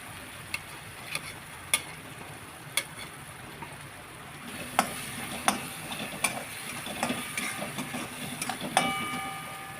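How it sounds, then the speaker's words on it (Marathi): Red chilli powder and other spices fry in hot oil for egg bhurji, a steady broadband sizzle broken by sharp clicks and scrapes of stirring, growing busier in the second half, with no talking. "सर्व मसाले व्यवस्थित तेलामध्ये परतून घ्यायचे."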